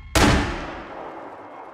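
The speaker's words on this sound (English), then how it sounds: "That sounded like a real gun." A single sharp gunshot cracks out nearby and then rolls into a long, fading echo outdoors.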